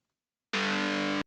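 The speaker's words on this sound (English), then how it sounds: "Phased overdrive guitar." A phased, overdriven guitar-style synth voice from BeepBox, detuned upward by 46 cents, rings out as one sustained distorted chord with a bright, buzzing, effect-laden tone that starts abruptly and cuts off about seven tenths of a second later.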